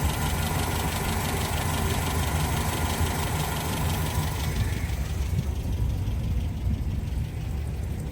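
A 1971 Land Rover Series IIA 88 4x4 engine idling smoothly and steadily up close, a constant low rumble with no talk.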